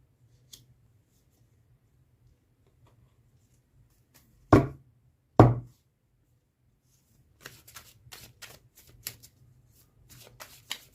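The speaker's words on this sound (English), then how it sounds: "So I am going to shuffle your tarot cards." A deck of tarot cards being shuffled, with two sharp riffles followed by a run of quick, soft card flicks and taps, close up and quiet with no talking.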